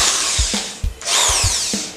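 A Tosita TS-10VRB keyless drill driver runs in short bursts, its high motor whine rising and dropping repeatedly with brief pauses between pulls of the trigger, close and loud with no talk.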